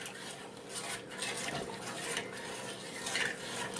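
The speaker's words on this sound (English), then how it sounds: "So you just keep stirring till everything is melted together." A spoon stirs peppermint white hot chocolate made from milk and white chips in a pot, making a continuous scraping swish against the metal with soft clinks.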